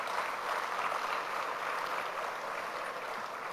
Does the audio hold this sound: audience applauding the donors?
yes